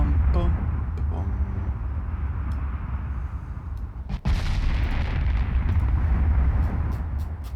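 Naval gunfire in the video game Ultimate Admiral Dreadnoughts, a deep rumbling battle bed broken by a sharp heavy cannon blast near the middle, followed by a rolling roar.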